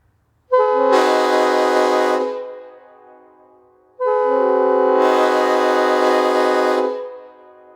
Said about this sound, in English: this is a PVC train horn for a customer